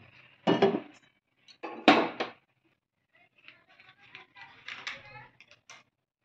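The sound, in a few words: wok being placed on a gas stove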